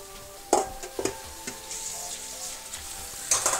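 Shredded cabbage sizzles and fries in a pan for egg rolls, a steady hiss broken by a few stirring scrapes and clatters, close and moderately loud with no talking.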